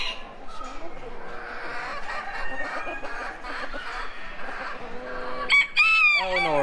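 A silkie cockerel crows loudly near the end over a steady backdrop of clucking hens and general bustle at a county fair chicken show.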